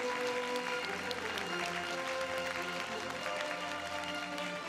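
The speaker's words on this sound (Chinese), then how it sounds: "大家掌声鼓励鼓励" An award ceremony audience applauds steadily for a school's prize, a soft, even patter of many hands clapping at a distance with faint background murmur.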